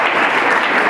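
Audience clapping at a school event, a steady dense patter of many hands filling the whole second at full, even loudness.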